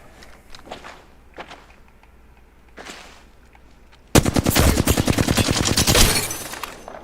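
Automatic gunfire in Apex Legends, a loud sustained burst of rapid shots that breaks in after a few seconds of quiet footsteps and light movement.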